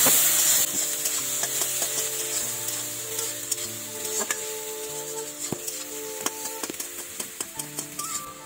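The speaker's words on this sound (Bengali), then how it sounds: "পেঁয়াজ রসুন ভালো করে ভেজে নেব।" Onion and garlic frying in a pan for a Bengali egg curry, a steady close sizzle with a background hum and a run of sharp scraping and tapping stirs toward the end.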